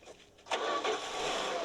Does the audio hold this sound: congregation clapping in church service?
no